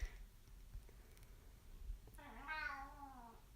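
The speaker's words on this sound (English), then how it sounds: "you want to see my cat real quick?" A pet cat at home gives a single drawn-out meow near the end, faint and alone after a quiet stretch.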